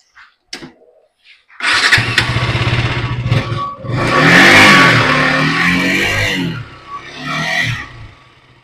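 A 2024 KTM RC 200 motorcycle with about 9,000 km on it starts up after a few short cranks. The engine then settles into a loud, close idle, and one throttle blip swells and fades.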